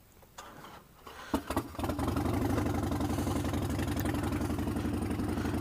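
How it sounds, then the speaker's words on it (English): A motorcycle fitted with a sissy bar bag clicks and sputters through a few cranking attempts, then catches and settles into a steady, close, rumbling idle. "motorcycle starts up"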